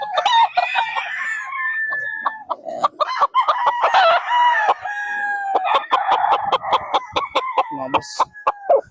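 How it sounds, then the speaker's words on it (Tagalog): Gamefarm roosters and chickens in San Ildefonso, Bulacan, crowing repeatedly and clucking close by, with overlapping calls and scattered sharp sounds throughout. "Napakagandang manok."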